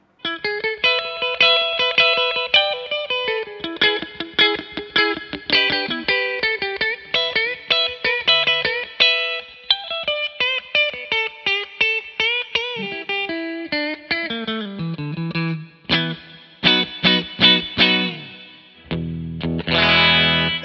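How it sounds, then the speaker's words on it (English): A clean Fender Stratocaster plays through a Quilter Mini 101 Reverb head with reverb about a third up and the other controls at noon. Bright, ringing chords and single notes sound alone, with lingering sustain and a few brief pauses. "So here's some more clean strat."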